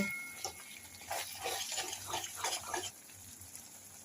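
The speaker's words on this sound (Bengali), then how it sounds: "এবার এতে বাটি ধোয়া জলটা দিয়ে দেব।" Water from rinsing a bowl poured into a pan of Kashmiri-style white potato dum, heard as a splashing, trickling pour over about three seconds, then a quieter background.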